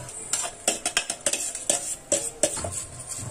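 A spoon scrapes and clatters in a pan as rice for a pavta masale bhat is stirred and sautéed, with quick, uneven metallic clicks repeating close up.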